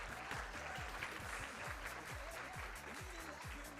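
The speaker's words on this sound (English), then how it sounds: "So again, another round of applause." Audience applause at a Miss Earth United States pageant preliminary swimwear show, steady clapping mixed with a loud rhythmic bass beat playing throughout.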